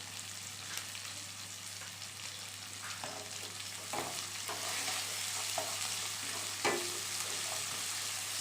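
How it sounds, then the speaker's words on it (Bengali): Onions sizzle and fry in a pan with a pinch of salt while cooking a Bengali katla fish kalia, a steady low crackle broken by a few louder stirring scrapes, with no voices. "পেঁয়াজটা ভাজা হোক"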